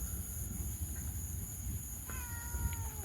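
A cat lets out a single clear meow late in the clip, close by against a quiet, steady background hiss on a rainy night.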